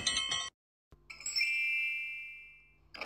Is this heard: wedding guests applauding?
no